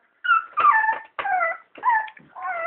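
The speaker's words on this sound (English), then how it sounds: "little mixed puppy, our little freak. She's a cross between a white Italian Greyhound female" An Italian Greyhound and Chinese Crested mix puppy whimpers and whines in a series of high, wavering cries, close and clear, each lasting under a second with brief gaps between them.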